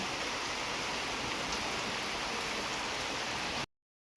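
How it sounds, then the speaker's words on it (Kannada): Heavy monsoon rain in Mysuru, India pours in a thick, unbroken roar, constant and close, then cuts off abruptly near the end. "ಮಳೆ ಸಿಕ್ಕಾಬಟ್ಟೆ ಬರ್ತಿದೆ"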